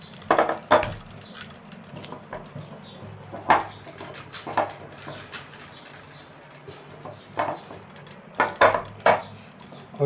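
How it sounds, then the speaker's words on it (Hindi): Pista chocolate donut dough is worked in a bowl, making irregular soft thuds and scraping knocks spread across the stretch, moderately close with no talk. "ये मैं मिक्स कर रहा हूँ"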